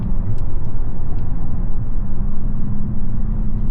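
Steady low diesel rumble from a 2025 RAM 3500 dually pickup with the exhaust brake engaged in tow/haul mode, a continuous loud drone heard from inside the cab at night.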